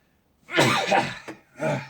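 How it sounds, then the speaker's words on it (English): A single close sneeze: a sharp intake of breath followed by an explosive burst, then a short exhale afterward. "Gotta sneeze now."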